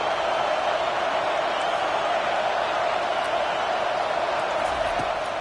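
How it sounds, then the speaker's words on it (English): At a college football game, a roaring stadium crowd creates a steady, dense wall of cheering noise that stays loud and unbroken from start to finish. "Listen to this crowd just shaking the girders of this place"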